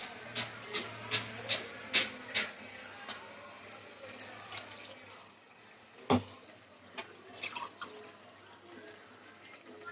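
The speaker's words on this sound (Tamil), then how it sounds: "அதுக்கு ஒரு 3 டம்ளர் தண்ணி ஊற்றிக்கிறேன்" Water pours and splashes into a pot for cooking tomato rice, with several sharp clinks and taps of a tumbler against metal, close by and with no voices.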